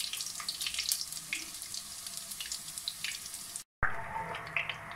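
Ginger and garlic pieces sizzle and crackle steadily in hot oil, a dense close frying hiss that drops out for a split second before resuming.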